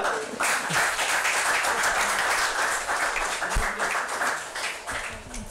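An audience gives loud, sustained applause honouring a family at a World Health Day event, dense clapping filling the room for several seconds before tapering slightly.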